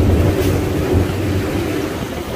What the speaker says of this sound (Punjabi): ਉਹ ਮੈਟਰੋ ਵੀ ਆ ਰਹੀ।